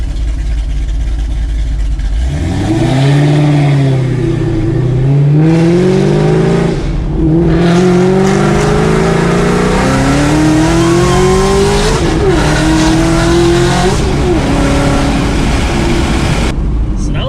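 A 1,000rwhp Mustang makes a full-throttle second-gear pull on sticky street tires, engine roaring loud and close with rising pitch sweeps over a heavy rumble, sustained for many seconds with talk faint beneath.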